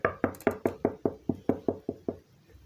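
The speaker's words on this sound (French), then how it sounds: "Voilà Andrea qui toque à la porte. Tac, tac. Voilà, je vais faire le bruit." Eleven sharp, evenly spaced knocks on a toy door during a Lego play scene, close and crisp, tapering slightly at the end with no talking over them.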